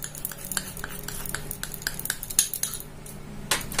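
A metal spoon mixing milk powder, desiccated coconut and powdered sugar in a bowl, a quick run of light clinks and scrapes against the dish, close and fairly quiet, no talk.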